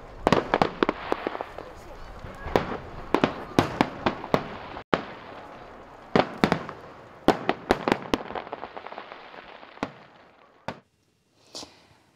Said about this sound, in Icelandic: Svo býðum við bara eftir flugeldaveisslunni.